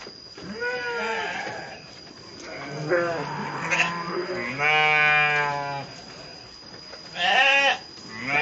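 Several sheep bleat loudly and repeatedly at close range on a farm where hundreds are raised, their wavering calls overlapping one another.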